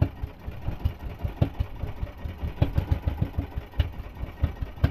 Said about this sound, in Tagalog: At ayaw mamatay ang makina.